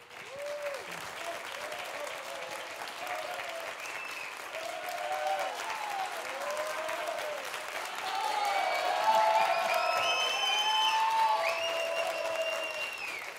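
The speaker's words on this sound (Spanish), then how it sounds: "el primer aplauso es para nuestros músicos regionales." Applause for regional musicians at a Rock al Sur concert in Aysén, moderate and steady, swelling louder toward the end while voices talk and call out over it.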